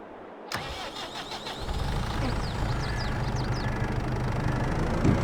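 A Massey Ferguson tractor engine starting in Farming Simulator 22, a cranking whir that catches into a steady low diesel idle, building slightly louder toward the end.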